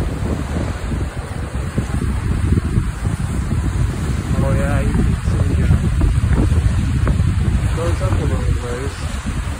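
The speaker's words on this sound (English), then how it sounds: "Very windy." Strong gusting wind at Latourell Falls in the Columbia River Gorge, Oregon, on a windy April day buffets the microphone with loud, continuous low rumbling, while indistinct voices are partly buried underneath.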